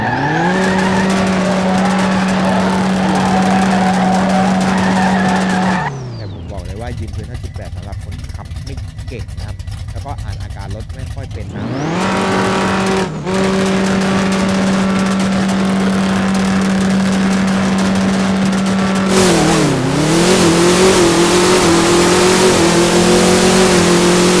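A blue 1990 Chevrolet Camaro with a tuned 5.8 litre setup makes a loud drag racing run, its engine holding a steady high drone before a sharp rev change and a surge of acceleration, with some tyre squeal and talk over it.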